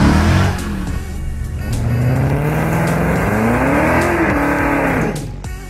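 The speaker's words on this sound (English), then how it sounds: "it ain't a Mustang if it doesn't have that V8 growl and rumble" A Ford Mustang V8 fitted with a Borla aftermarket exhaust revs loud and close, its deep growling rumble rising and falling through several throttle blips before easing off at the end.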